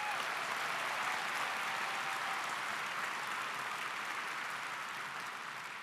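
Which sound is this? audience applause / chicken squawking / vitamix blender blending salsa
audience applause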